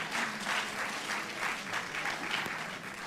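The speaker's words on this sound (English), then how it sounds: "Let's give them a round of applause." Audience at a multicultural music and dance festival breaks into a short, steady burst of applause, fairly close and continuous with no talking.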